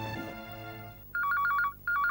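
A telephone rings in two bright, warbling electronic bursts with a short gap between them, taking over after a low music bed fades out, in a Hindi TV drama scene.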